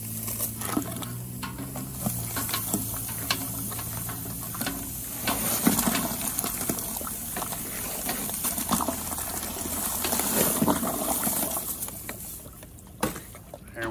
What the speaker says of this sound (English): we got 2 gallons of water hot. I'm gonna add 15 pounds of sugar.